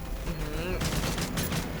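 Bursts of rapid gunfire from the video game Call of Duty Modern Warfare 3 crackle loudly in quick volleys after a brief calmer moment, with faint in-game noise behind.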